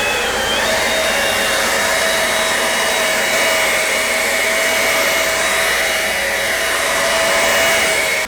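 A loud, steady air blower roars continuously up close, blasting dirt and debris out of open wall cavities in a building under construction, with no pauses or talk.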